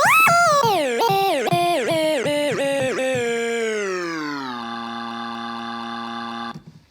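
Looped woman's vocal sample in a music production program, pitch-bent so the repeated stutters slide downward in steps and then settle into one long held tone that stops abruptly, loud and alone.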